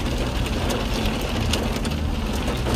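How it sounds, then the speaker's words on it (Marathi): Hailstones pelting a car on the road to Yamunotri, a dense, loud, continuous patter drumming on the body with no let-up. "गारा गाडीवर तुम्हाला आवाज येतोय की माहीत नाही, पण ह्या बघा आता गारा पडत आहेत"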